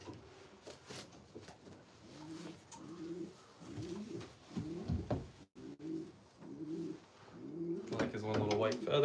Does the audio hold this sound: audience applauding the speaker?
no